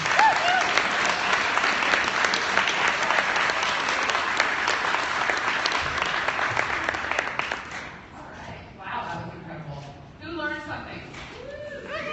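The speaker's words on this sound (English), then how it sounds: "Please give her a round of applause." An audience at a talk applauds loudly and steadily for about eight seconds, then the clapping fades and a person starts speaking.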